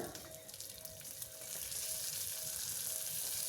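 Chopped onion and tomato frying in oil in a pan for an avarekalu kootu, giving a steady, soft, close sizzle that swells slightly toward the end, with no talking.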